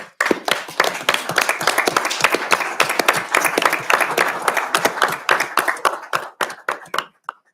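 Applause fills a city council meeting, a loud burst of many hands clapping that holds steady, then thins to a few scattered claps before fading out.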